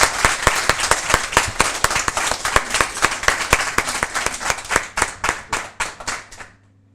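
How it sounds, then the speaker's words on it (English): An audience at a flash fiction reading claps steadily for several seconds, a close, brisk patter of many hands that thins out and stops near the end. "can I get a round of applause for Raymond and Betty?"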